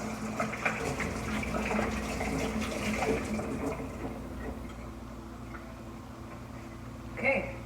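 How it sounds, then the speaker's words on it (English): Tap water runs in a kitchen sink while hands are washed, a steady splashing stream that fades out partway, followed by a brief clatter near the end. "Wash my hands."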